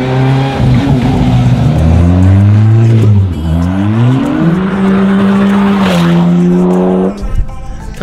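Go-kart engines roar loudly on a racing track, rising and falling in pitch through shifts and passes, close and continuous with a brief tire squeal.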